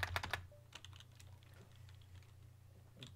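Typing on a computer keyboard, a quick cluster of close key clicks at the start and a few sparse taps after, over quiet room hum.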